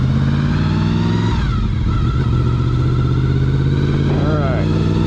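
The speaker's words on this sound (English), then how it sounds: "Clutch in, off throttle, shift down, clutch back out slowly, back on gas." Motorcycle engine revving and dropping as the rider downshifts, with the pitch falling then climbing again after the clutch is let out; steady and close throughout, with speech over it.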